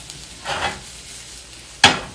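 Onions being stirred in hot oil in a home kitchen, giving two brief bursts of scraping and sizzling, the second sharper and louder, with a faint sizzle continuing between them and no voices.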